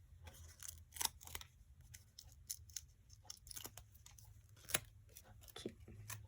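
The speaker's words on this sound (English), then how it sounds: "peel off the backing release paper" Backing release paper is peeled off dimensional adhesive pieces for a holly greeting card, giving soft, quiet crinkly tearing and tapping noises in scattered short bursts over a low hum.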